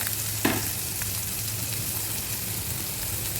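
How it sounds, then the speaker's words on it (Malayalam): Crushed ginger and garlic fry in leftover prawn oil for a prawn roast, giving a loud, steady sizzle with a brief clatter as they drop into the pan, then continuous crackling. "നമുക്ക് ആ എണ്ണയിലേക്ക് തന്നെ നേരത്തെ ചതച്ച് മാറ്റി വെച്ചിരിക്കുന്ന ഇഞ്ചി, വെളുത്തുള്ളി, അതുപോലെ"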